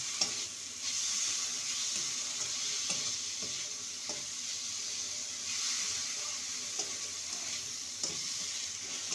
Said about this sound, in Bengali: মিনিট 2 মুসুর ডালটাকে মশলার সাথে কষিয়ে নেব